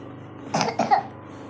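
A couple of short coughs from a cold, in quick succession, close and fairly soft, over faint background hum.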